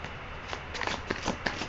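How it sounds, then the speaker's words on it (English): Tarot cards being shuffled and riffled by hand, a soft papery flutter with several quick riffle bursts, close and alone without talk. "I will shuffle and rifle the cards again."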